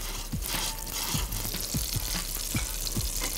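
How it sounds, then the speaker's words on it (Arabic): Butter melts in a pan with a drop of olive oil, giving a steady close sizzle with faint scraping taps every half second or so; no voices. "هاخد الزبده نزلها عندي في الطاسه، هنزل عليها بنقطه من زيت الزيتون"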